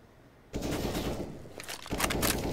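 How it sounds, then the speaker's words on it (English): Bursts of automatic rifle fire from the French rifle in a CS:GO professional match on the Vertigo map, loud and rapid, erupting suddenly after a quiet moment and continuing in dense volleys. "Now he'll try it with the French rifle."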